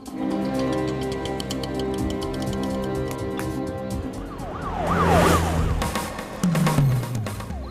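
A police car siren wails as it approaches, its rising and falling tone growing louder over the rumble of road traffic, which includes passing car engines, and no one speaks.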